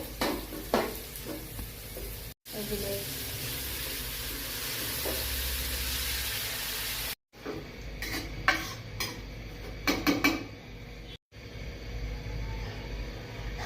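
Vegetables fry in a pan with turmeric and salt, sizzling steadily while a utensil stirs and scrapes against the pan in irregular bursts, with a few brief drops into near silence.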